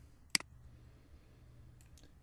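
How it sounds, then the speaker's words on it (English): A single crisp computer mouse click sounds close and quiet, followed by faint soft ticks against a low room hum. "And let's click that."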